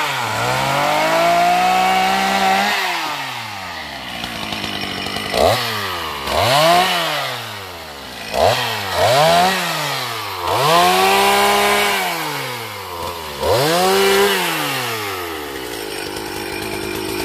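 A chainsaw cuts through a very large branch of a golden-flowered Tràm tree, its loud engine rising and falling in repeated revving surges as it bites into the wood, with no voices.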